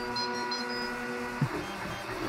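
A new 3D printer running its first print, with a steady mechanical whir and faint high stepper-motor tones, plus a brief clunk midway, heard alone and close.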